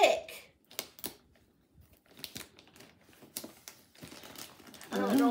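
Thick plastic packaging crinkles and crackles as it is pulled off a newly unboxed item, in close intermittent bursts with short pauses, ending in a louder sustained rustle.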